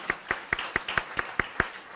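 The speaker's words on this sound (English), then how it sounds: "Well, we'll clap for her anyway." Even, rhythmic hand clapping from a lecture audience at a summer research symposium, about eight crisp claps at a steady pace, close and clear with no talking.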